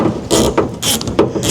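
A 10mm socket wrench ratchets a nut on a Fiat Ducato motorhome door lock: several quick bursts of close metallic clicking, separated by short pauses between strokes.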